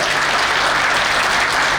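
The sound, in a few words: audience applause at alumni meet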